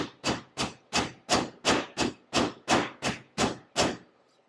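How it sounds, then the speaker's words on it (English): Steak being pounded thin with a meat mallet for country-fried steak, eleven evenly spaced heavy thuds close up, each fading quickly before the next strike. "We went ahead and brought it up to room temperature so that it would pound easily."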